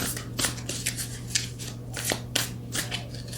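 Oracle cards shuffled by hand during a reading, giving soft, irregular papery flicks and riffles close up over a steady low hum, with no voices.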